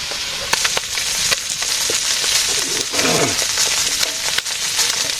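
Bata fish frying in a pan in a village kitchen, a continuous crackling sizzle with scattered clinks and scraping sounds over it.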